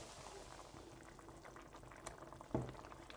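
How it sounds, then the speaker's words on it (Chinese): A potato and beef brisket stew simmers in a pot, with soft, continuous bubbling and gurgling and one sharper pop or stir near the end, all quiet and close. "特别喜欢做炖菜的时候咕嘟咕嘟的时候"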